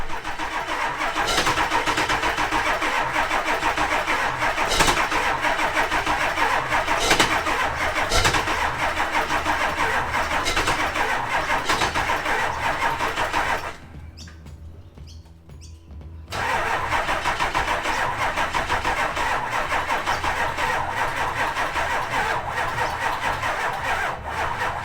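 A 7.3 turbo diesel V8 fitted in a 1935 Dodge truck cranks loudly and continuously from close by on the starter, stops abruptly for a couple of seconds, then resumes cranking with the same rough chugging rhythm.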